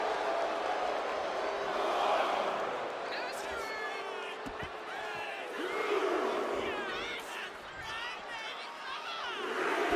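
Arena crowd noise from the WWE 2K25 wrestling game, a steady loud roar with rising cheers and shouts that swells near the end, with commentary-like voices mixed in throughout.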